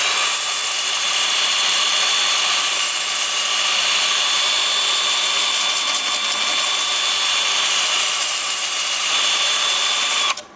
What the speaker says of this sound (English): And then with the lathe spinning forward